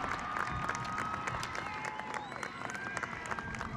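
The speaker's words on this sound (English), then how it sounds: "please give them a round of applause, make some noise again" A large graduation ceremony crowd claps and cheers steadily, a faint, distant wash of applause with scattered whoops and overlapping voices throughout.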